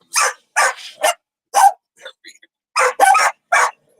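Dogs at home bark in sharp, close, loud bursts, roughly seven or eight quick barks with short pauses and a few faint yips between them.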